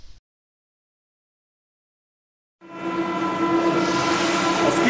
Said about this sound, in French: Ensuite, sur un démarrage de la rame.